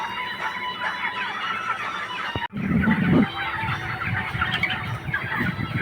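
Startled chickens cluck and squawk close by as a boy goes after them, with a brief dropout and then a louder burst of agitated fowl calls and scuffling.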